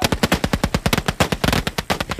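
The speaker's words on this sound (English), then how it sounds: "We see gunfire coming from outside the compound in." Rapid automatic gunfire rings out outside Gaddafi's compound in Tripoli, a loud continuous burst of closely spaced shots at an even rhythm with no talking.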